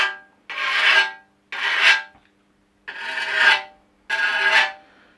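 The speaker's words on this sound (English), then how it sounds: "You can start with the rough one and just start polishing the blade a little bit." A wet sharpening stone rasps along a thin scythe blade in four long, even strokes, each swelling then fading, with short pauses between, close and fairly loud with no voices.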